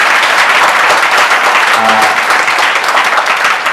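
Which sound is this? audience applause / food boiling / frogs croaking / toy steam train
audience applause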